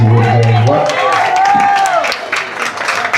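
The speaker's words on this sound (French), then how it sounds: "Je vous demande de l'applaudir" Audience applause for a performer at a music tribute concert, a dense steady clatter of clapping that runs the whole stretch, with a held musical tone underneath and some crowd noise mixed in.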